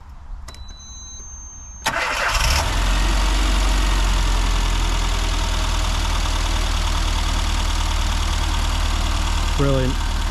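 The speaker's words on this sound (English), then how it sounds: "alright, we're going to hear the engine." A 1998 classic Mini catches and settles into a steady, loud idle close by, its low throbbing drone running unbroken for about eight seconds after a brief click and quiet start.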